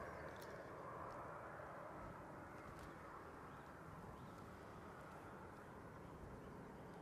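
An ATR 72 turboprop airliner at Manchester Airport, flying in from the Isle of Man, produces a steady distant broadband engine roar that continues unbroken throughout.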